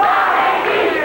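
A wrestling crowd shouts and roars steadily and loudly throughout a 1986 CWA Championship Wrestling match between Jeff Jarrett and Larry Wright, a dense, continuous arena din with no gaps.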